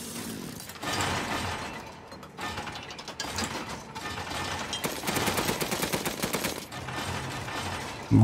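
Machine gun fire in the horror game Resident Evil Village, loud rapid mechanical bursts rattling over a dense, clattering game soundscape, with the heaviest stretch of fire near the end.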